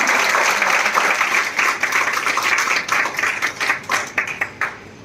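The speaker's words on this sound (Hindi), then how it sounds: "एक बार जोरदार तालियों से" An audience at an academy event applauds, a dense wash of clapping that thins out toward the end into a few separate, distinct claps.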